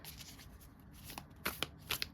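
Oracle cards from the Sacred Traveler deck being shuffled by hand, a soft papery riffle punctuated by several sharp, close flicks and slaps in the latter half, with no talking.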